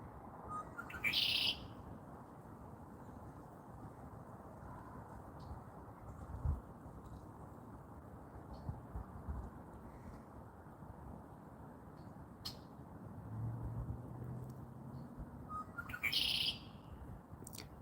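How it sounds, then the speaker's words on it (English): Red-winged blackbird chirping from somewhere overhead in Michigan grassland, with a few short bright calls near the start and again near the end over a steady outdoor hiss. "that's a red-winged blackbird chirping up above that I don't want to even move to scare off"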